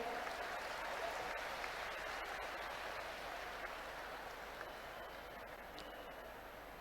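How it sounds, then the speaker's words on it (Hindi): An audience at a Sheopur government event for women's self-help groups with PM Modi applauds with dense, continuous clapping that sounds slightly distant and stays fairly even, easing a little toward the end. "आइए हम सब भी जोरदार तालियों के द्वारा अभिनंदन करें।"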